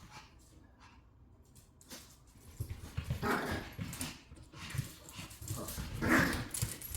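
A pet dog indoors gives a run of barks, whines and low growls that grow louder toward the end, mixed with faint background noise.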